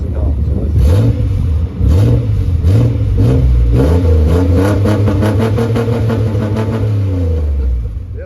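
A 2004 Chevrolet Avalanche with its tailpipe removed, the engine revving loudly up and down in repeated blips before settling into a sustained higher rev, close and raw.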